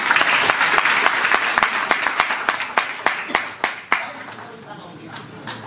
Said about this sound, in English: you have to clap even harder